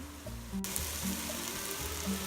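Onions caramelizing in a pan for French onion soup, giving a steady, low sizzle and soft crackle close by, continuous with faint pops and no talking.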